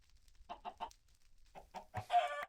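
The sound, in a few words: chickens clucking in video game Agrarian Skies (Minecraft)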